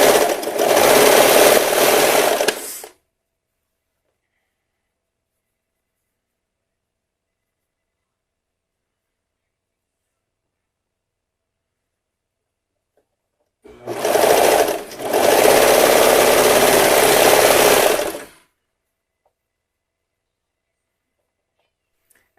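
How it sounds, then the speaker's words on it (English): A serger stitches a quarter-inch seam on underwear fabric in two loud, steady bursts of rapid machine whirring, a short one at the start and a longer one later, separated by a long silence, close up with no talk. "On most sergers, they'll give you a 1/4 inch finished seam."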